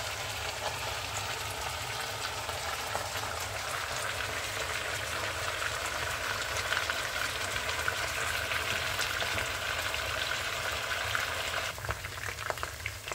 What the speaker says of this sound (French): Là, je viens de frire les poissons.